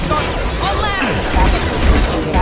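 Gunfire in a Mass Effect 2 firefight, a dense continuous barrage of shots and booms running throughout, loud and close, with a voice briefly speaking over the combat noise.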